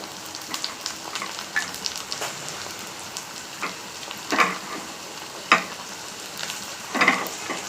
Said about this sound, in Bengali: পেঁয়াজটা হয়ে এসছে নরম হয়ে তার মধ্যে আমি টমেটো কাটাগুলো দিয়ে দিচ্ছি